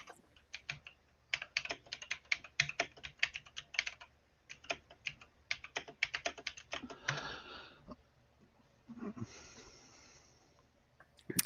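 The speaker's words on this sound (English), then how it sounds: "Oh, sorry, I was typing." Fast, irregular clatter of keys on a computer keyboard, close and fairly loud, in dense bursts for about eight seconds before trailing into quieter breathy noise and a few final taps.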